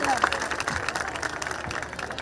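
Audience applause at a village event, a short burst of dense clapping mixed with crowd noise and a voice speaking over it.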